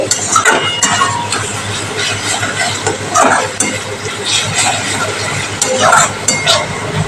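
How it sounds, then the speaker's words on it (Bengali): Spice paste for potato curry (aloo dum) being stirred and fried in a pan, a loud continuous sizzle with repeated scraping and clinking of the spoon against the pot. "অবশ্যই তোমরা মশলাটা ভালো করে কষিয়ে নেবে"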